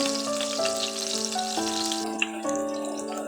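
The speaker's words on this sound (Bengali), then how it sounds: "মাছগুলো রান্নার জন্য তেল বসিয়ে দিয়েছি পেঁয়াজ বাটা দিয়ে দিলাম" Onion paste frying in oil in a pan for a fish curry, a steady bright hiss under louder tuneful background music throughout.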